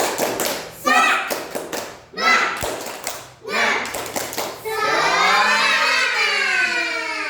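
A group of young children claps a brisk rhythmic clapping game in unison, sharp hand slaps interleaved with chanted voices, ending in a sustained loud group shout.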